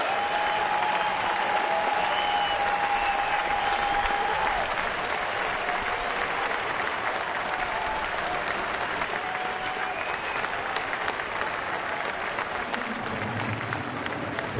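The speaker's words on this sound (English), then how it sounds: "Well-deserved round of applause. And a standing ovation," Sustained loud applause and a standing ovation from a large crowd at a baseball game, Atlanta at Pittsburgh, steady clapping that carries on throughout with faint cheering mixed in.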